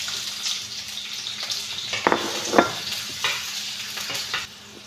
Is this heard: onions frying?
yes